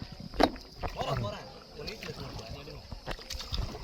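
A kayak is paddled through the water while island hopping around El Nido, Palawan, with gentle splashes and sloshing paddle strokes close by and voices mixed in.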